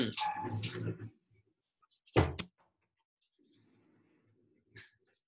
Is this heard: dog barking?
yes